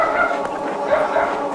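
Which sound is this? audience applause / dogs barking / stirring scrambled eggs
dogs barking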